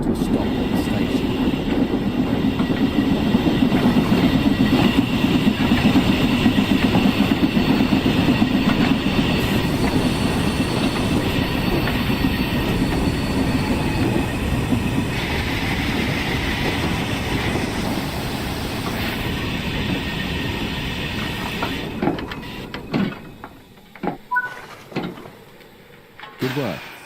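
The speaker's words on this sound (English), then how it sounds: "Apply a small amount of brake and bring the train to a stop at the station." A passenger train in Train Sim World 5 rumbles along and brakes into a station, the heavy rolling noise with wheel clatter gradually fading, then a few brake squeals and clunks as it comes to a halt.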